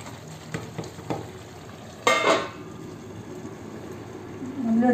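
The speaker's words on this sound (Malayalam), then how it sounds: "നമുക്ക് ഇതിൻ്റെ അടപ്പം തുറന്ന് പതുക്കെ ഇളക്കി നോക്കി." Chicken majboos stirred gently in a pot after the lid comes off: a few light clinks, then a brief scraping burst of the spoon over a soft background sizzle, with no talking.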